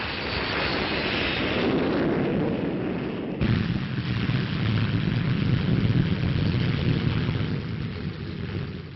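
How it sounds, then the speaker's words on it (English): A P-1067 jet fighter flying, a loud, continuous roar of engine and rushing air that holds steady for the whole stretch, with a sudden shift in tone partway through as the aircraft passes close. "the P-1067, the fastest fighter flying today."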